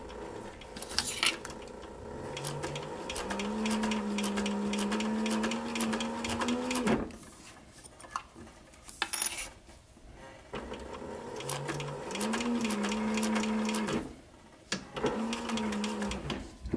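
A sewing machine stitches a 3/8 inch seam on a sun visor, running in steady motor bursts with a brief stop and reverse for backstitching, then a second run; close, loud and alone.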